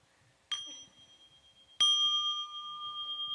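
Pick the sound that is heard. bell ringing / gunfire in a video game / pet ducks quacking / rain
bell ringing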